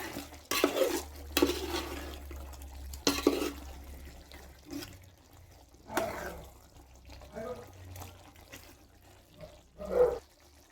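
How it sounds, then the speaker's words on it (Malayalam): Chicken curry in a pot on a wood-fired stove gets stirred after roasted ground spices such as cinnamon and cloves go in. Wet spoon scrapes and pot clinks come in irregular bursts, with a voice talking between them. "ഒന്ന് മിക്സ് ചെയ്ത് കൊടുക്കാം"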